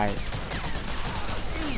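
Gunfire rattles in the Medal of Honor Breakthrough video game: a dense, continuous fusillade of shots with game noise filling the whole brief moment.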